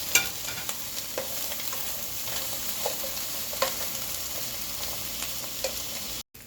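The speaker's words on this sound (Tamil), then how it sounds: "முந்திரி பருப்பு, கொத்தமல்லி, தக்காளி சேர்த்து நல்லா வதக்கிக்கலாம்." Cashews, coriander and tomato are sautéed in a pan for palak paneer, giving a continuous close sizzle broken by regular scraping stirs of a spoon, with no voices.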